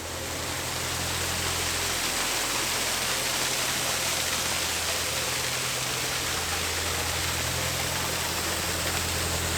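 Heavy rainwater rushing and pouring like a waterfall beside a canal cutting on the Shropshire Union, a loud, constant broadband roar with a low engine hum underneath and no talking.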